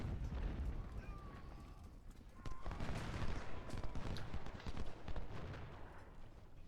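Musket fire in a Civil War video game battle at Malvern Hill, with artillery crews under fire: a dense, continuous crackle of rifle volleys and battle noise, loud and sustained, with a brief tonal whine early on.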